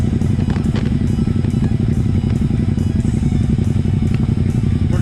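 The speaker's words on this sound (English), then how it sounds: "I love the rumble of our bikes." Suzuki M109R 1800cc and Ducati X Diavel S motorcycles rumble steadily and loudly on a ride through Vale of Avoca, a deep continuous engine drone with occasional clatter and no pauses.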